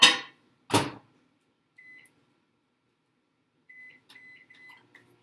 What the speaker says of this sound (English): we're going to stick it in the microwave to melt it